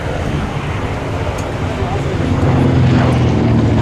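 A vintage aircraft passes low over the runway at the Duxford Flying Legends airshow, a broad engine roar swelling steadily under heavy wind buffeting, with a commentator talking over it.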